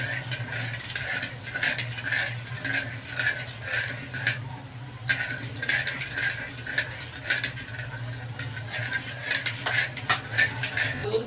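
A spoon stirs milk and sugar in a pot, making repeated rhythmic scraping strokes against the metal over a low, steady background hum.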